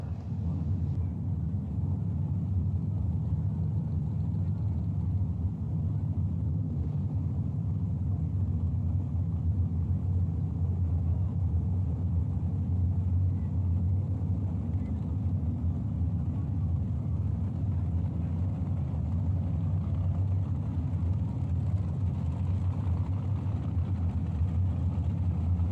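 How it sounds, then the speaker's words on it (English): Drag racing cars at a bracket race idle and rumble at a steady, moderate distance, a continuous low engine drone without distinct revs, with no talk over it. "I hear engines a-revving and headed towards the water."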